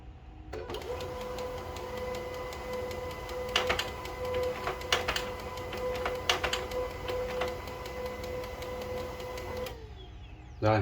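A Canon LBP 2900 laser printer runs continuously with a steady mechanical whir and hum, punctuated by several sharp clicks and clacks of the paper feed, close and alone for about ten seconds before stopping.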